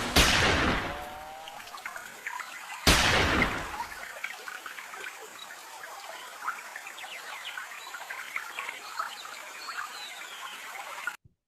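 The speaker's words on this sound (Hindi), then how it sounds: "आपको पीछे एक पानी की और जंगल की आवाज आ रही होगी" Jungle ambience with water: two sharp bursts of rushing splash open the scene, then a quiet, steady bed of chirping insects and birds continues at a distance.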